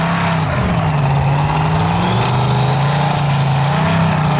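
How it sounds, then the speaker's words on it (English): A custom 1947 Peterbilt-bodied front-engine pulling truck with a 521 cubic inch Alan Johnson billet Hemi roars at full power throughout, a loud, sustained, distorted engine howl with wavering pitch at a pulling event. "That's Steve Strell and that custom 1947 Peterbilt bodied front engine machine, 521 cubic inch Alan Johnson billet Hemi"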